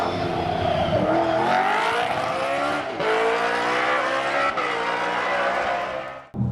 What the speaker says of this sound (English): I think the sound of a naturally aspirated engine is way more rewarding to your ears